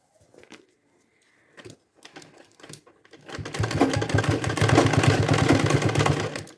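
An electric sewing machine stitches cloth for a bag, starting after a few quiet handling sounds and then running in a fast, steady, loud rattling hum close by, with no talking.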